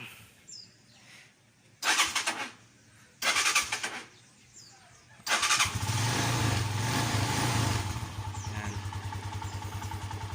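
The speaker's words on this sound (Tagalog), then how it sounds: "parinig natin sa inyo parinig natin yung tunog big bike" A big-bike engine sound plays through a speaker fitted to a Rusi SS150 motorcycle: short revving bursts, then a sustained loud rumbling idle with a steady low drone.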